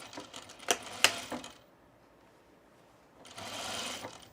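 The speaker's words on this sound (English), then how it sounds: "we're gonna sew this right sides together" A home sewing machine stitches two layers of fabric for summer pants right sides together with a three-eighths inch seam, in two short bursts of whirring separated by a pause of near silence.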